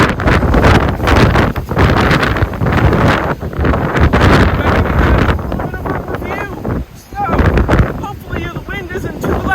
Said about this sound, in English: hopefully the wind isn't too loud for you guys